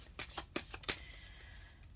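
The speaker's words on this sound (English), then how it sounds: "I'm going to give this a few shuffles and then we will cut the deck" A deck of tarot cards is shuffled by hand, with a few quick riffling bursts and soft flicks of card edges, close and fairly quiet.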